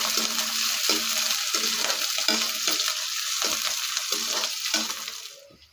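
Green chillies and onion fry in a pan with a loud, continuous sizzle that rises and falls in pulses as they are stirred, then dies away at the end.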